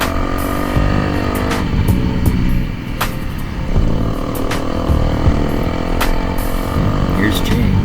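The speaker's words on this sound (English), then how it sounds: "Nice, light, nimble little bike." A Honda CRF 450X dirt bike ride through the Mojave desert, the engine droning and revving close by with wind rush, while someone talks over it.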